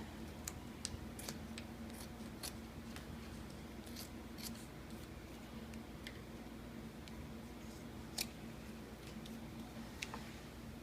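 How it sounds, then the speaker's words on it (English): Scissors trim upholstery fabric for a 1923-25 Ford Model T touring top, giving quiet, close, irregular snipping clicks over a low steady room hum. "And then we'll go ahead and trim this away."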